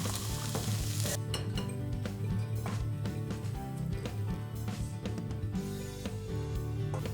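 Tempeh fries in oil in a wok, a constant loud sizzle close by, broken by repeated scraping and clattering strokes as the pieces are stirred.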